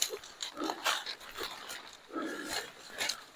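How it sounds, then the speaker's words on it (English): A dog panting and rustling through thick puckerbrush at close range, quick breathy pants in uneven bursts mixed with brushy scuffing, no talk over it. "What a good dog you are, Thor."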